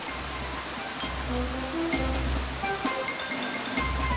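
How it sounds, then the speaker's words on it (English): Powerful waterfall in a Scottish forest, a loud, continuous rushing roar of falling water heard close up, with no one talking. "This is waterfall number 2,"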